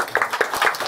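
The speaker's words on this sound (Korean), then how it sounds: "우리 환영합니다. 박수 한번" A church congregation at a Sunday worship service gives a short burst of clapping to welcome visitors, quick overlapping hand claps lasting under a second.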